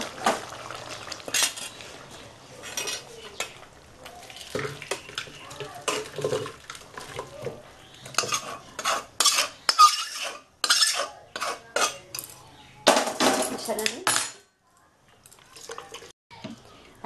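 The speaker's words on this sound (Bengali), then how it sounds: "এইবার প্রেসারে দিয়ে দিচ্ছি মাংসটা।" Mutton for a Bengali-style curry goes into a pressure cooker amid close, irregular clatter of metal pots, lids and utensils, with sharp knocks and scrapes separated by short quiet gaps.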